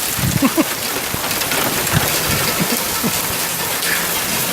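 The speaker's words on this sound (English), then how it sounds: "It's raining. Not quite here yet, but it's coming." Rain in Florida falls steadily as a loud, close, continuous hiss on surrounding surfaces, with scattered heavier drops and faint low rumbles beneath.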